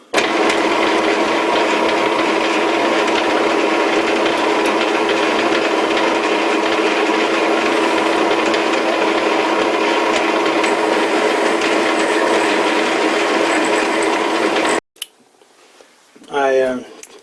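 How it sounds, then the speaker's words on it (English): A Dremel-style mini grinder runs for about fifteen seconds as a loud, steady high-pitched whine while a tool is sharpened, then it stops abruptly and someone speaks briefly. "tried to sharpen the tool, so let's try again"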